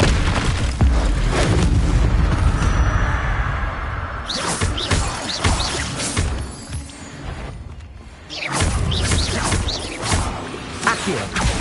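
Incendio fire spell blasts in the Hogwarts Legacy video game, loud whooshing booms and crackling bursts mixed with dense combat effects over nearly twelve seconds, no voices.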